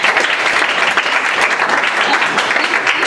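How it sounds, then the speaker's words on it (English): A school audience gives a student a round of applause, a dense and loud burst of clapping that carries evenly from start to end. "Can you give him a round of applause?"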